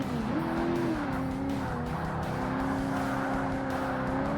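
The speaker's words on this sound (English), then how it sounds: "Hear a Corvette. Don't hear a Ferrari yet." A Corvette race car engine in the Forza Motorsport video game on Xbox, a steady droning engine note rising and settling through gear changes, sustained and fairly loud with no voices over it.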